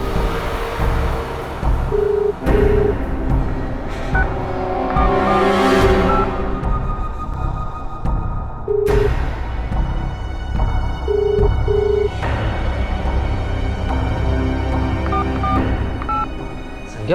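A telephone rings on without being answered, short electronic tone pairs repeating at intervals over a busy, swelling dramatic background.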